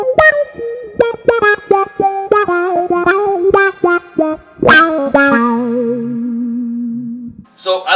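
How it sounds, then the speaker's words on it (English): An electric guitar played through a talk-box-like effects pedal gives vowel-shaped, voice-like notes: a run of quick picked notes, then a bent, sustained note with wavering tone, loud and up front. "So it kind of sounds like the guitar is talking a little bit."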